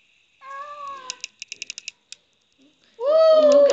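A cat meows in two drawn-out cries separated by a quick run of sharp clicks, close and clear, with no talking.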